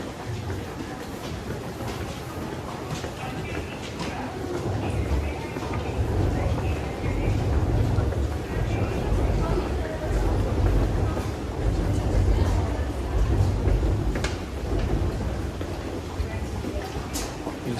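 Metro trains rumble and clatter steadily through a busy Tokyo station in Ginza. The low roar swells and fades across the whole stretch, with someone talking over it.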